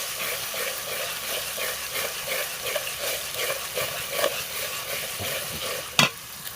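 Chili, garlic, nut paste, mustard paste, ginger and cumin sizzle steadily in a hot pan while a spoon scrapes and stirs in a regular rhythm, ending with one sharp clink of utensil against the pot.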